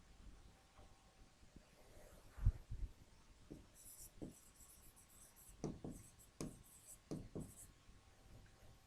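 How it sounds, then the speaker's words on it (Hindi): Pen scratching on paper as a sentence is written, faint irregular strokes and taps close by, with short pauses between bursts and no speech. "और एक सेंटेंस और लिखता हूं"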